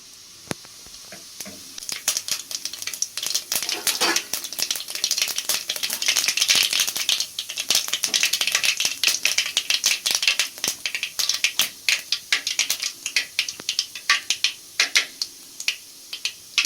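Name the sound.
mustard seeds and cumin spluttering in hot oil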